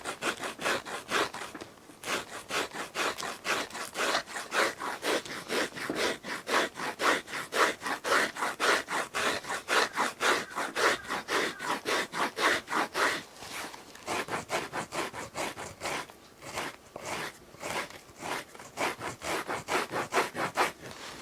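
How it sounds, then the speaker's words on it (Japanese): Cork shoe-bottom filler is shaved and shaped by hand, flattened toward the front and rounded further back, giving continuous rapid rasping strokes, close and steady throughout with a brief pause near the start. "前の方はかなり平坦に削ってしまいます。"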